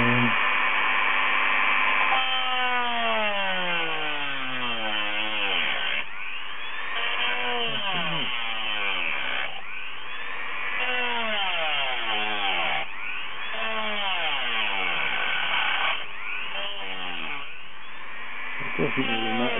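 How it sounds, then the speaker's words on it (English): A Dremel rotary tool set to a fairly low speed cuts through a laburnum wood and Corian pen blank. Its motor whine repeatedly dips and swoops in pitch under load, steady and close, with no voice over it. "And then we'll set our Dremel on a fairly low speed,"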